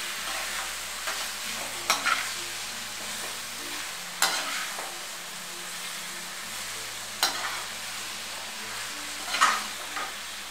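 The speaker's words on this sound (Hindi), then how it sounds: "नूडल डालूंगी और अच्छी तरह से मिला लूंगी" Vegetable noodle chowmein is stirred and tossed in a pan with spices over a flame, a steady soft sizzle under it, broken by a few sharp scraping strokes of the spatula against the metal.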